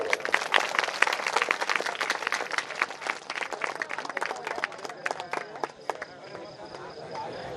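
An assembled audience at a religious discourse gathering welcomes someone with a burst of loud, uneven clapping that gradually thins out and fades after several seconds.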